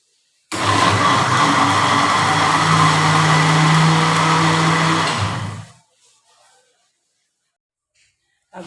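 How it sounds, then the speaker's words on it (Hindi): Heavy rain pours in a dense, loud, steady roar for about five seconds and then cuts off abruptly, leaving near silence. "आज बारिश हो रही है तो आवाज़ आ रही है बड़ी।"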